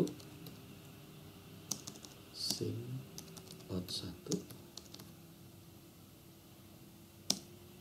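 Scattered keystrokes on a computer keyboard come in short bursts of clicks, quiet and close, with a faint steady hum behind them and a final lone tap.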